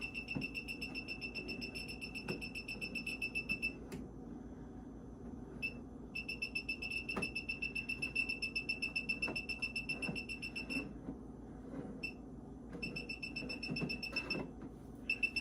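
An Extech CB10 circuit breaker finder emits rapid, loud repeating high-pitched beeps in long bursts with brief gaps, sounding while being run along breakers in a home panel over a low background hum.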